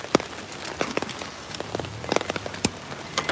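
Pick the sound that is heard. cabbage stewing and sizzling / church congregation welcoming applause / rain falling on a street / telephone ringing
rain falling on a street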